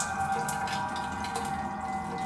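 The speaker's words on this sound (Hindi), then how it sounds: "शावर से जोर जोर से गर्म पानी आने लगा।" Hot water gushing hard from a shower in a homestay bathroom, a steady, loud, continuous rush of running water with no voices.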